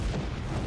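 A spaceship's point-defense cannon fires in The Expanse, a short, loud, low booming burst with a rumbling tail that lasts under a second.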